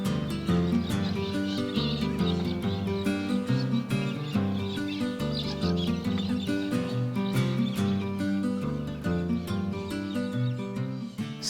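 Horses whinny and neigh close by as they move with cattle through Australian high country around Corryong, with clip-clop and other farm-animal calls over a busy, continuous animal backdrop.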